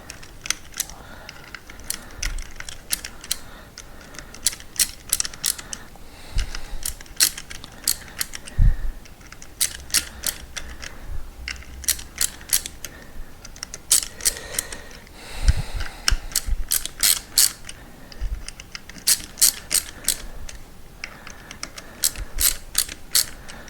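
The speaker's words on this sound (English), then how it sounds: "Start to get a little bit of pressure so the ratchet goes." Ratchet wrench clicking in repeated bursts of sharp ticks while working on the clutch of a Honda Transalp 600 (PD06) motorcycle during a rebuild, close and clear with short pauses between runs of clicks.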